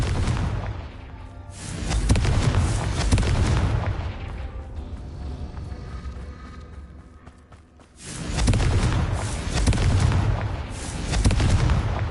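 The Confringo fire explosion spell in Hogwarts Legacy, loud booming blasts in two heavy bursts separated by a quieter rumbling lull.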